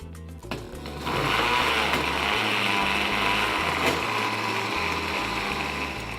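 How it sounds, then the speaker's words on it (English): A blender motor whirs up after a brief clatter and runs steadily at a low, even speed, close by with no talking, blending homemade sofrito. "Let's cover our blender, put it on low."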